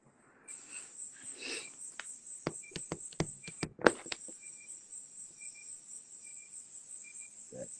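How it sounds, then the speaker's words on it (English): Crickets chirp outdoors in a steady, high, continuous trill. A few sharp clicks and taps sound close by near the start, and there is no talking. "Got crickets going on over there."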